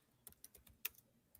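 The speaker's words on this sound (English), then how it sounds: "I hear her typing." Faint typing on a computer keyboard, a handful of irregular light key clicks spread over a second and a half, soft and sparse with no voices.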